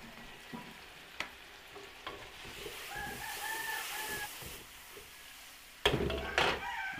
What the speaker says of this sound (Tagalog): Igisa natin yung tomato sauce